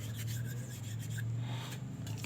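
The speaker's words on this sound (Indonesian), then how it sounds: "kita gosok dengan tangan seperti ini." Hand scrubbing a motorcycle throttle body wet with carburetor cleaner, a steady close rasping rub that continues without pause over a low constant hum, with no talking.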